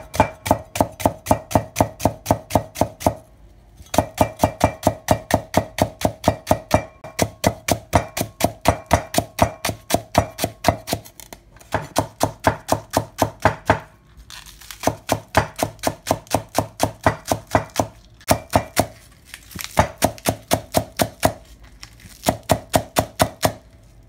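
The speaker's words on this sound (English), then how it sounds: "Now let's finely slice the spring onion." A kitchen knife finely slices spring onion on a cutting board in rapid, even bursts of crisp taps, with brief pauses between runs. The chopping is close and clear, with no talking.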